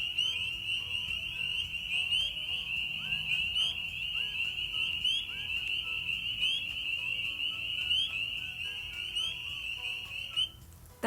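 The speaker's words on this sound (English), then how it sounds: "Their call kind of sounds like maybe a little baby doing a small cry. It's a pretty funny call" Small frogs give a continuous high, shrill trilling call that carries steadily for about ten seconds, with scattered chirps and calls from other frogs around it.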